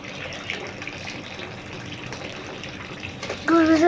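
Water pours into a drinking container for pet birds in a continuous, moderate splashing stream, with a brief tonal chirp-like sound near the end.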